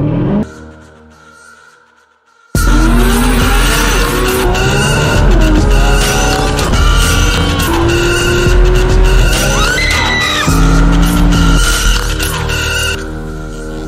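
A 500-horsepower C6 Corvette launches with traction control fully off: a loud engine roar bursts in after a quiet pause, with tires squealing and skidding as revs climb and waver for over ten seconds, close and continuous.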